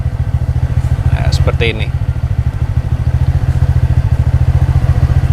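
TVS NTORQ 125 Race XP scooter engine idling with a steady low throb, rising slightly in revs, close and loud, with a person speaking briefly over it.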